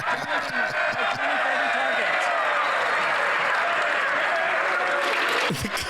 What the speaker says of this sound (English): Pierre is standing up, laughing and clapping.